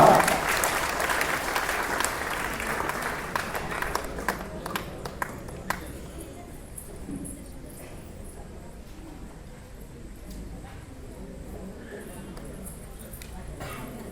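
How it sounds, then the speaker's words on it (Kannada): A large audience at a Kuruba community gathering in Harihara claps loudly at first, the applause thinning into scattered individual claps and fading out by midway, leaving quiet room tone. "ಮತ್ತೊಮ್ಮೆ ಜೋರಾದ ಚಪ್ಪಾಳೆ ಬರಬೇಕು ನಿಮ್ಮಿಂದ"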